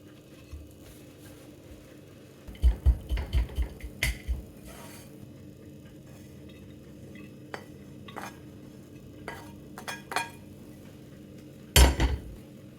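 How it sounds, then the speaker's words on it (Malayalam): Semiya sweet dish scooped from a pan into a bowl, with a burst of metallic scraping and clinking of a spoon against cookware, then a few sparse taps and a final sharp clatter, close and fairly quiet. "ഇതൊരു പാത്രത്തിലേക്ക് മാറ്റാം"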